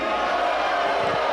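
Wrestling crowd at a Limitless Wrestling independent show booing a performer, a steady, dense wash of many voices filling the hall without pause, loud and sustained throughout.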